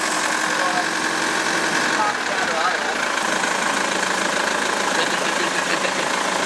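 A loud boat engine idles steadily nearby with a rough, diesel-like knocking rumble throughout.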